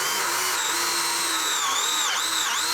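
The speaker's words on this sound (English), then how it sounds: "Now I've got my step drill bits." Power drill driving a step drill bit through a guitar body during a build, a steady loud whine that holds its pitch and dips briefly near the end as the bit bites.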